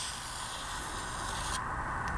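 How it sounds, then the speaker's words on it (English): Gloss spray paint hisses steadily from an aerosol can onto Warhammer 40k Vindicator models, a close continuous spray that cuts off abruptly near the end, followed by a brief short puff. "It's a gloss spray. And we're just going to quickly spray over all of this."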